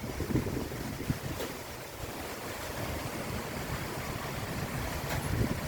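Strong wind blows over the sea on the coast of the Philippines, a steady loud rush buffeting the microphone with waves surging underneath and no voices.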